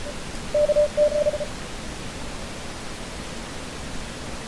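A KX3 radio receiver tunes in a CW Morse signal, giving a steady mid-pitched beep in two short bursts over a continuous hiss of background static.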